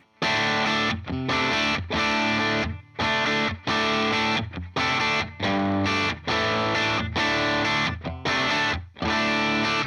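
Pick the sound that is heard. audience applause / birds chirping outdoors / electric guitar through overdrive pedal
electric guitar through overdrive pedal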